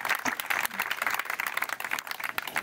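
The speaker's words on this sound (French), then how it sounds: "Et je crois qu'on peut l'applaudir." An outdoor gathering on a summer guided history tour claps for a few seconds, close and uneven, with individual hand claps standing out and no talking.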